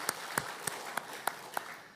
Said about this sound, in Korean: 우리 박수로 또 환영하겠습니다